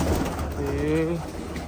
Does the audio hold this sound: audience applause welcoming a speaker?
no